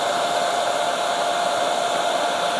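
A hair dryer runs at steady full blast to melt solid Crisco shortening. The whir is loud and continuous with a constant tonal hum, alone and with no talking.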